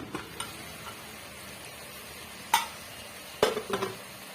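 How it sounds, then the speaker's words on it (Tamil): Chicken biryani being stirred in an open pressure cooker over a medium flame, with a quiet simmer broken by a few sharp metallic scrapes and knocks of a spoon against the pot. "இப்போ நல்லா கிண்டி விட்டுக்குங்க"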